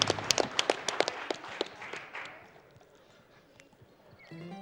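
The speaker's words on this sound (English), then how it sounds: "If you get a round of applause for that" A burst of audience applause and clapping at a speedrunning marathon event, loud at first, then quickly thinning and fading out into quiet room noise.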